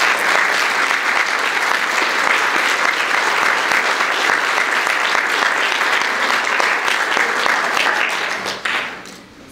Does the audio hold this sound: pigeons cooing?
no